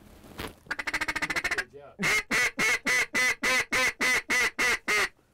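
Loud nasal duck quacks at a Nebraska waterfowl hunt: a quick stuttering burst, then about a dozen evenly spaced quacks in a steady rhythm, close by.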